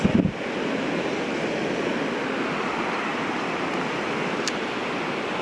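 Sea waves wash steadily onto the shore under gusting wind on an overcast day, a continuous broad roar that stays loud and even throughout with no talk.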